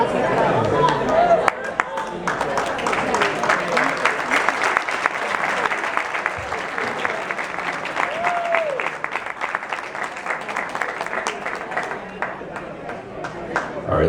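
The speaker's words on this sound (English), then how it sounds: "how about one more round of applause for three wonderful toasts?" A wedding reception crowd bursts into loud, sustained applause after the toasts, dense clapping that stays steady from start to finish with some cheering and chatter mixed in.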